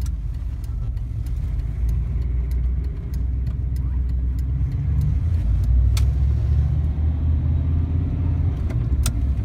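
A 1994 GMC Stepside pickup drives along a public street, its engine a continuous low rumble inside the cab that rises slightly as it picks up speed, with occasional small clicks and rattles.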